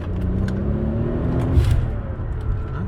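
A Mercedes CL65 AMG twin-turbo V12 accelerates in first gear at about half throttle, with a known fault of cutting out under boost. A close, steady engine drone rises gradually in pitch, with no voices.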